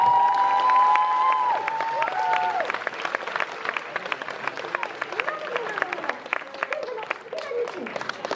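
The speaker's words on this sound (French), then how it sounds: "On l'applaudit." A festival crowd applauds and cheers a Harley Quinn cosplayer at a cosplay contest, sustained loud clapping that tapers off while a voice speaks over it.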